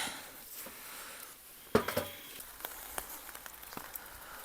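Soft, steady rain pattering on a surface, with a few sharper knocks and drips standing out near the start.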